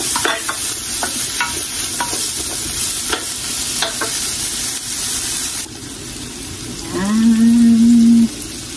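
Onion frying in a pan for Filipino pancit bihon, a steady loud sizzle with scraping stirs, then a brief low hum near the end.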